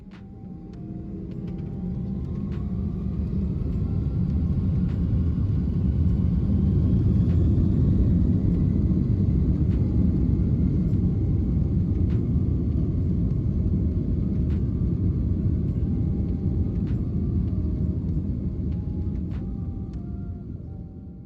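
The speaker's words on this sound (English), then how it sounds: "What surprises me is just how loud the 767-300 is on takeoff and its initial climb." An Austrian Boeing 767-300 takes off from runway 29 at Vienna, heard from the cabin as a loud, steady low engine roar that builds up, holds through the climb and eases slightly toward the end.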